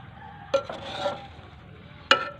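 A few brief scraping, clinking strokes of a spoon turning cooked village-style matar pulao of rice and peas in a pot, quiet and close, with no talking.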